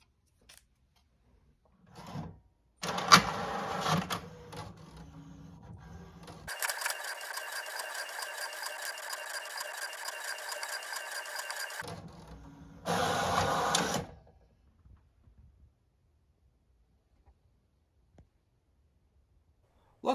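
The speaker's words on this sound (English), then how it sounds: "So let's actually print the decals now." A printer runs off custom decals, starting with short whirring feeds and clicks, then a long steady mechanical buzz of the print pass, ending with another burst of feed noise before falling quiet.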